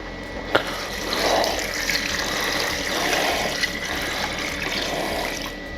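Kitchen tap pours a steady stream of water into a soup pot, a continuous close splashing rush that swells and eases slightly as the pot fills, with a sharp knock near the start.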